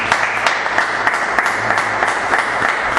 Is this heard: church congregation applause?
yes